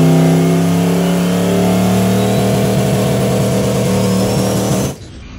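Drag race car known as the Cowmaro launching hard off the line, a loud, dense engine roar rising steadily for about five seconds before cutting off abruptly into quiet.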